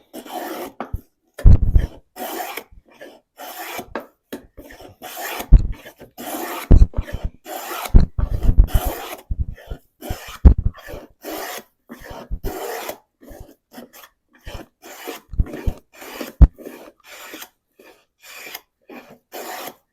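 Hollow and round moulding planes cutting wood in repeated short strokes, each a raspy shaving pass in an irregular rhythm with brief pauses between, close and fairly loud, no talking.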